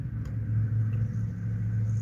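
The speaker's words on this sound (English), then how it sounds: "that's an old car" An old car rumbles past nearby, its low engine drone steady and fairly loud for a couple of seconds, with no talking over it.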